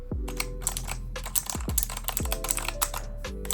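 Rapid typing on a Razer Huntsman Elite keyboard with purple optomechanical switches: a dense run of crisp, close clicks with irregular rhythm, some keystrokes sharper than others, and no voices.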